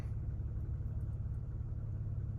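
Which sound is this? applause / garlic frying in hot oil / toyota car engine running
toyota car engine running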